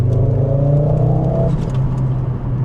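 A Volvo 850 GLT engine revs steadily up close, its deep rumbling drone rising in pitch before easing back into a constant idle-like hum for the rest of the moment, with no talking.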